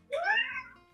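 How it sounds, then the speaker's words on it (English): A house cat named Lumi gives a single close, clear meow with a rising then falling pitch, lasting under a second in a quiet room. "my cat has arrived"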